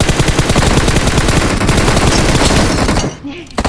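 Gunfire in PUBG Mobile: loud, close, continuous rapid automatic shots hammering for about three seconds before cutting off abruptly.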